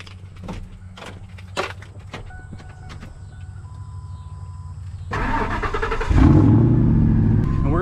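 A 1997–2003 Ford F-150 pickup: a few faint knocks and clicks at first, then the engine cranks and catches about two-thirds of the way through and settles into a loud, close, steady running rumble.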